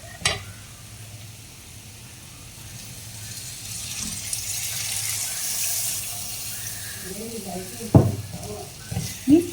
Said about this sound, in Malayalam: ഇതിലേക്ക് നമുക്ക് പുളിവെള്ളം ചേർത്ത് കൊടുക്കാം